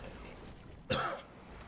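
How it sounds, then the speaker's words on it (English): A single muffled cough from a live esports commentator cuts through a steady background hiss, brief and fairly quiet. "pardon me, I apologize for the coughing"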